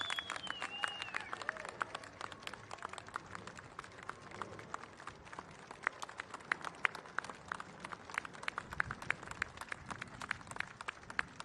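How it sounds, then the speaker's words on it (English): Sustained applause from an audience at a memorial service honoring World War II veterans, with dense steady clapping throughout and a few brief tones early on. "One more round of applause for all our World War II veterans"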